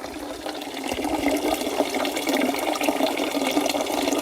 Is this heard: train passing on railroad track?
no